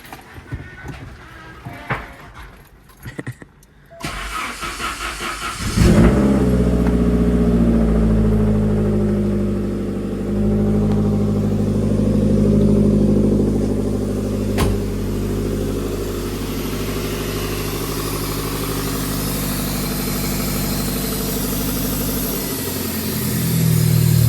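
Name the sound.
car engine running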